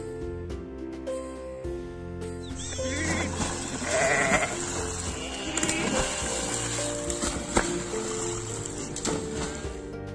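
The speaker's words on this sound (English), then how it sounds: "sheep, the beautiful and lovely farm animal" Sheep bleat a few times over splashing water and scrubbing sounds, the calls close and fairly loud.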